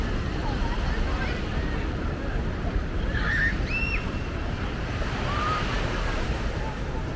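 Surf and breaking waves at crowded Waikiki Beach in Honolulu, a steady broadband wash rolling continuously with wind, faint distant voices and a few bird-like chirps over the top.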